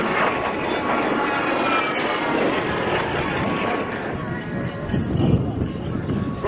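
At a Danish air show held by the Fighter Wing at Skrydstrup, a fighter jet maneuvers overhead, making a sustained, broad jet roar that swells and shifts, with a voice faintly present beneath it.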